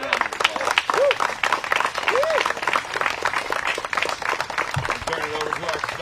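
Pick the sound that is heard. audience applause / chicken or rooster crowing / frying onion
audience applause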